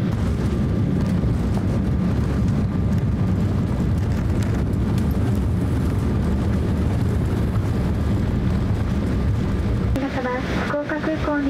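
Embraer 170 jet touching down at Fukuoka Airport, a steady loud roar of engine and airframe rumble heard from inside the cabin, with clattering bumps near the end as the wheels and brakes take hold.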